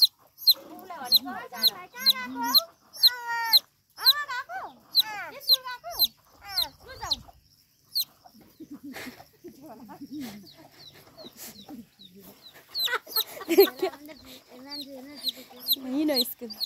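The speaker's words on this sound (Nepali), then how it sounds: "कुखुरा नि हेरौँ न" Chickens cluck and squawk close by in rapid, repeated bursts, followed by scattered clucks with people talking and background clatter.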